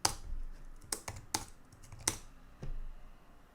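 Keys on a computer keyboard tapped in a few sparse, separate clicks, quiet and close, with soft pauses between strokes and no talk.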